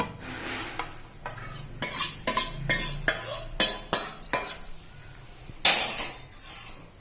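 A wooden masher churns and mashes tomato and brinjal chutney in a pot, giving a run of rhythmic, close scraping and knocking strokes with short pauses between them. No one speaks.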